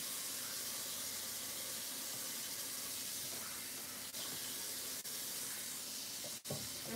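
Rice being rinsed under running tap water in a home kitchen, a soft continuous hiss of flowing water with a few small knocks, quiet and steady throughout.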